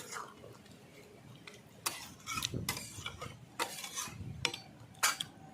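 Banana and prawn curry is stirred in a pan, giving a series of scraping, clinking utensil strokes against the metal at irregular intervals over a low simmering background.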